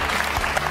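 Short burst of audience applause following a call to clap for people who have meditated to cope with stress, dense and steady throughout.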